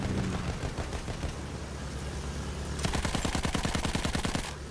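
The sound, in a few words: gunfire in the video game Battlefield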